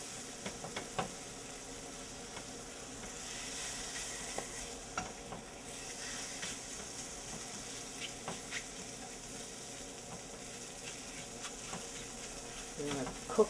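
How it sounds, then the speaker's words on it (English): A flour and butter roux, made in a pan used to cook mushrooms, sizzles softly while being stirred, with a low steady fizz and scattered scraping strokes, fairly quiet and without talking. "We're going to cook off that flour taste and create that nutty wonderfulness that is roux."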